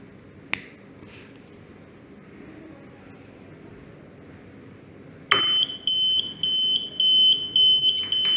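A gas leak detector alarm on a kitchen cooking gas line goes off loud and close after a quiet stretch, a steady high electronic tone broken into a rapid repeating pattern and sounding alone for the last few seconds.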